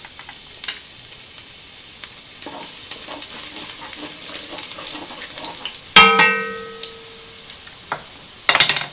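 Two medium cloves of finely minced garlic sizzle steadily in about two tablespoons of hot olive oil, with a sharp ringing clang of a metal pan or utensil partway through and a brief clatter near the end.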